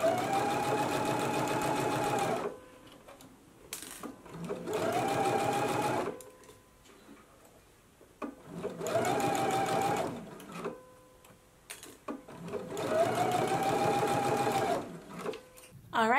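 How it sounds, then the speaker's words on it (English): A sewing machine edge stitches the binding on blouse sleeves in four bursts of rapid motor-driven whirring, each lasting a couple of seconds, separated by quiet pauses with faint handling sounds. "now we can go to the machine and you can do a stitch in the ditch"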